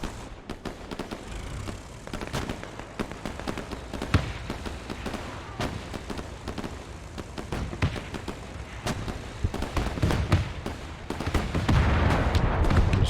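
Artillery and gunfire in the WWII strategy game Men of War 2, a continuous battlefield of sharp cracks and booming blasts at varying distances, building into a denser rumble toward the end.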